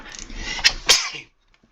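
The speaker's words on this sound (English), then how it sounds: "I have to sneeze" One loud sneeze bursts out close to the microphone after a brief inhale, followed by silence.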